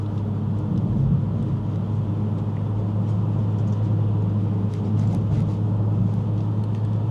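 Inside a 2024 Acura Integra A-Spec in sport mode, the engine makes a steady low droning hum with road rumble beneath it. It stays constant and even throughout, with no voices.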